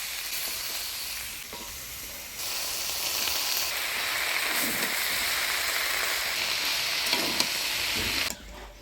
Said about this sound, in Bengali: লাল ধোগা পাতা দিয়ে আলুর সাথে ভালোভাবে কষিয়ে নিলাম।